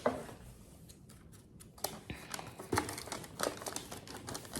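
Scissors snipping through paper for a Gabby's Dollhouse Easter basket craft, a few quiet crisp cuts and paper crinkles close by in a still room.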